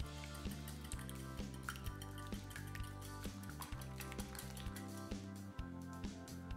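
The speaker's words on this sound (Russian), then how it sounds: "Хорошенько взбиваем венчиком." Eggs being whisked with salt and sugar, a whisk scraping and clinking against the bowl in a steady rapid rhythm, close and moderately loud over soft background music, with no talking.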